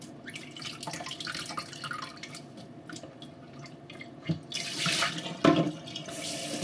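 Soaked mushrooms are squeezed in water in a sink, with splashes, drips, soft squishing and sloshing that grows busier and louder toward the end, and no talking.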